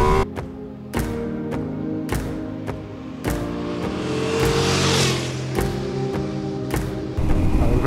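Ducati Multistrada V4S motorcycle engine rising under hard acceleration with wheelie control off, climbing through gears with sharp shift breaks at steady intervals, loud and close over wind noise.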